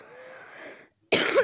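A single short, harsh cough right up close, after a brief pause in faint background noise.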